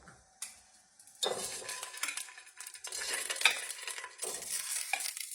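Clams and chorizo sausage go into a hot pot for a cream-sauce clam dish, giving a close, busy sizzle with stirring and metal-on-pot clatter that builds after a quiet start, with no talking.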